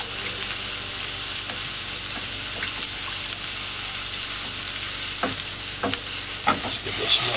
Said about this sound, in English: I'm going to add our broth to this now. Stir that in so it thickens.